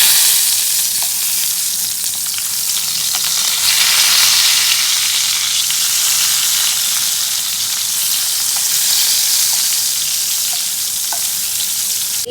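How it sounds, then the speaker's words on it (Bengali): Eggplant frying in hot oil in a pan gives a loud, steady sizzle and hiss that runs unbroken throughout, close and fairly even, with faint crackles and pops scattered through it. "বেগুনের একদিক ভাজা হয়ে গেছে"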